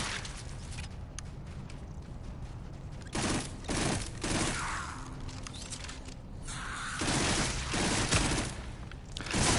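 Rapid gunfire in a dark VR shooter game, bursts of dense automatic shots with short gaps, loud and close throughout.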